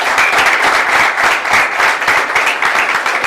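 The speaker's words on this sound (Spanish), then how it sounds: "Bríndele un aplauso al Señor." Spanish-speaking church congregation applauding the Lord during a service, loud, close, dense clapping from many hands with a slightly pulsing rhythm, filling the whole stretch without speech.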